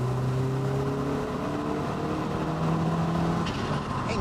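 A Lancia Delta HF Integrale Evolution engine drones and revs steadily, its tone dipping and rising again, loud and close throughout.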